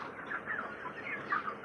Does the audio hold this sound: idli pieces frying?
no